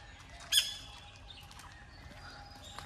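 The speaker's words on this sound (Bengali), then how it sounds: "পাখির ডাক শোনা যায়।" A small bird gives a single sharp squawk, not a parrot's call, in a quiet sitting area beside a shrine's offering room. The call is brief and moderately close, then faint outdoor ambience continues.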